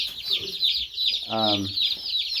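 A brood of about a hundred Freedom Ranger baby chicks peeps in a constant high-pitched chorus close by. A brief, deeper voiced sound cuts in partway through.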